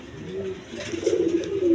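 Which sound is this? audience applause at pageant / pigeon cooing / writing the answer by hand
pigeon cooing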